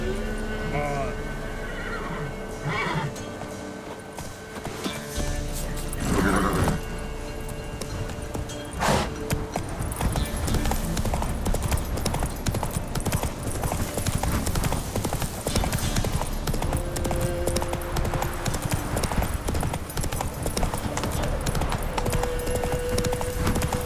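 A horse in the video game Witcher 3 gallops, with steady, loud hoofbeats pounding continuously and a whinny near the start, layered over game music and ambience, with a voice briefly calling out.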